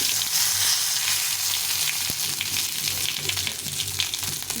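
Dried red chillies, cumin seeds and bay leaves crackle and sizzle in hot oil in a kadai, a steady close frying hiss with small pops and no talk.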